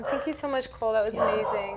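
A dog yips and whimpers in short, rising cries while someone speaks over it close by.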